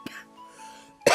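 A short cough bursts out near the end after a quiet stretch with a faint low hum, close and fairly loud.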